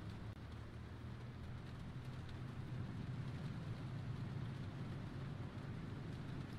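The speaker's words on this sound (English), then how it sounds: "it's raining" Rain falls steadily in the driving survival game Pacific Drive, a faint, even hiss of rain with a low rumbling undertone, continuous and unbroken throughout.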